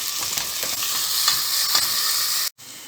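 Chopped onions sauté in a pot for ezogelin soup with a steady, close sizzle and faint stirring scrapes, cut by a brief silence near the end.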